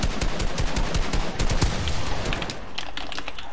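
Gunfire in a video game's creative mode rattles out in dense, rapid bursts, loud and close, and keeps up almost without pause throughout, with no one speaking.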